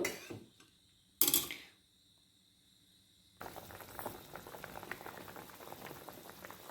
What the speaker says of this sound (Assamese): আঞ্জাখিনি উতলি আহিছে